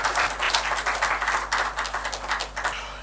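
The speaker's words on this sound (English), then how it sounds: "big round of applause for Archana Shukla to kick off the first chat" A conference audience at a health technology summit claps for a fireside chat guest, with sustained, moderately loud applause from a room of people and a constant low electrical hum beneath it.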